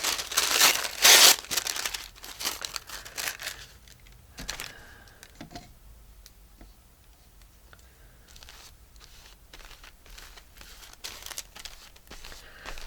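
Broken-up tissue paper for an art journal is crinkled in loud, close bursts at the start. Quieter scattered handling rustles follow.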